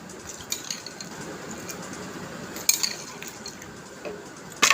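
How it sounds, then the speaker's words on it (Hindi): Faint clinks and a couple of sharper tinkling knocks as ice drops into a blender for a mint margarita, over a low steady background hiss. "मैं इसमें आइस ऐड कर देती हूँ।"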